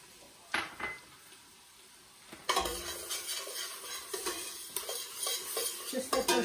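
Shallots sizzle softly in a soup pot while a spoon stirs and scrapes against the pot in irregular bursts, fairly quiet and close, with no talking.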